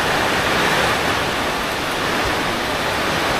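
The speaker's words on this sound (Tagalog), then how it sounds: "Grabe, lakas ng ulan." Heavy rain pours down steadily outside a shelter with a door and windows, a dense, loud, continuous roar of broadband hiss with no voices over it.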